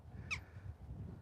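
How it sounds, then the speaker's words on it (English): A single crow gives one short, fairly clear caw on a dog walk outdoors, over steady low wind and ambient rumble. "Look, the crows have called in the reinforcements."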